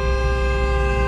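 Car horn honked in one loud steady blast lasting about a second, close by, during a driving lesson at a crossroads.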